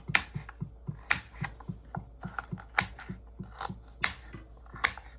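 Knife chopping baby carrots on a cutting board, a steady run of crisp, close thuds at a quick even rhythm with a few louder, sharper cuts mixed in, no talking.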